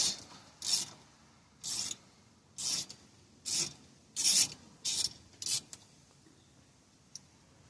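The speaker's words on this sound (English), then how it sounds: "And those are 7mm bolts that you're removing." Small 7mm bolts being unscrewed with a ratcheting tool under the dash of a 2013 Ford Fusion Hybrid during cabin air filter replacement, about eight short crisp rasping ratchet bursts in a regular rhythm, close and fairly quiet.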